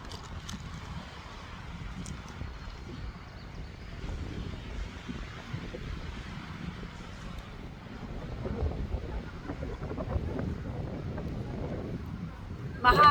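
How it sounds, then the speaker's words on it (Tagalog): Wind gusting across a microphone at Crescent Beach, a steady low buffeting rumble that swells and pulses throughout, with faint surf and the hum of a passing boat in the background. "Mahangin, malamig."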